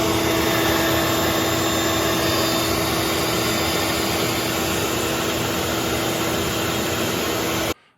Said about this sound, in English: It's a 6 horsepower, 14-gallon. We'll turn it on and test the airspeed that it's able to pull through.